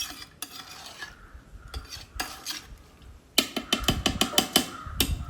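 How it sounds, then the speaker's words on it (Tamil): Rice and chicken for dum biryani are stirred in a pot, with scattered metal scrapes that become a quick run of loud spoon-on-pot clatters. "ரைஸை போட்டுட்டு ஒரு கலக்கு கலக்கிட்டு அப்படியே நம்ம வந்து மூடி வச்சிடலாம்"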